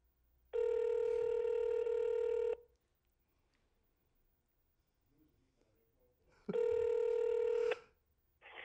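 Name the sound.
telephone ringing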